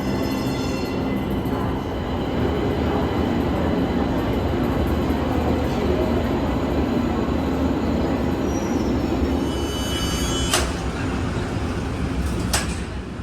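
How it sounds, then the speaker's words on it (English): Pittsburgh light rail train riding along its tracks, a continuous loud rumble and rattle heard from inside the car, with faint wheel squeals and a few sharp metallic clunks near the end, without talking. "time to keep riding the light rail"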